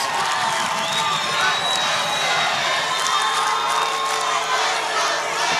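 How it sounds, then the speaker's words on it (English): Stadium crowd at a Chicago women's football game (LFL, Chicago Bliss vs Atlanta Steam) cheering and shouting in wet weather, a dense, steady roar with whoops and whistles throughout, no talk over it. "And this Chicago crowd, braving the weather, are getting behind this defense."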